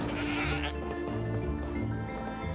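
Goat bleating in the video game Trine, a fairly loud drawn-out bleat set against a busy, constant game background with music and effects.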